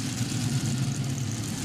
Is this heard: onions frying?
no